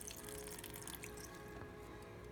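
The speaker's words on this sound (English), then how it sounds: "You're going to take your cup, you're going to pour about half of it into here." Water poured from a cup onto a potted plant makes a soft, continuous trickle and splash, faint and close, lasting only a moment with no talking.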